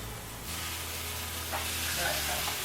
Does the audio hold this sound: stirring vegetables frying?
yes